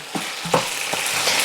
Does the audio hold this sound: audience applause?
no